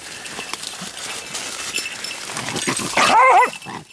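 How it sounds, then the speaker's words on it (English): A small dog growls low and steadily, then breaks into a few loud, close barks near the end. "don't you growl at me"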